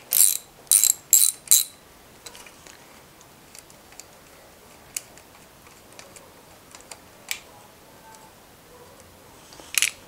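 A 3/8-inch ratchet loosening and removing long bolts from a seized engine, with several quick, loud ratcheting bursts at the start, then scattered faint clicks and one final burst at the end, with no talking.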